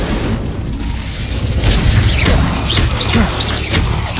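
An Incendio fire spell is cast in Hogwarts Legacy during a spider fight, producing a loud, continuous roaring burst of flame and crashing battle noise, with a few short vocal cries heard within it.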